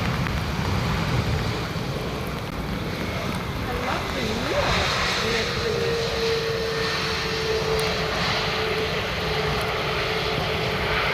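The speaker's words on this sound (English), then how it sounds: "Landing in from Olbia, and it's an Airbus A320." EasyJet Airbus A320 jet landing at Amsterdam Schiphol, heard as a steady, broad engine roar with a rising whine partway through, continuous throughout with a faint voice underneath.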